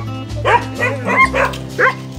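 Dogs at a farm on a hillside bark close by in a quick run of about five sharp, yappy barks, with a low engine-like hum underneath.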